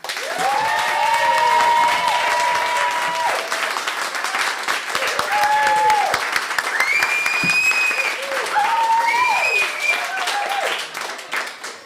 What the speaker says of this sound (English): So let's collectively give a big round of applause for everyone.